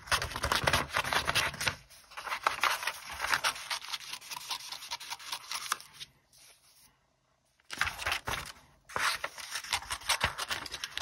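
Scissors snip steadily through paper to cut out a Victorian-style paper embellishment, a quick run of close, crisp clipping bursts with two short pauses, the second nearly silent; no one speaks.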